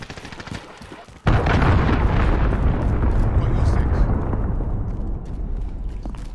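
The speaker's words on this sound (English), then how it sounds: "Allied cruise missile away." A cruise missile explosion in a video game, a sudden loud blast that booms and rumbles on for several seconds after a stretch of gunfire.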